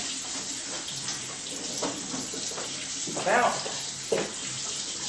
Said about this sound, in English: I'll go ahead and get you up here so you can rinse your hands off